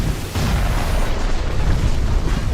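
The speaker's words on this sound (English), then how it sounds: "Ion Cannon Fire is her special ability." Ion Cannon Fire special ability in the video game Edge of Eternity, a loud sustained blast-like roar with a sharp onset that rumbles on without letup, no talking over it.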